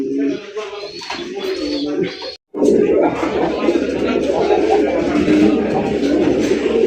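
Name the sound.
pigeons cooing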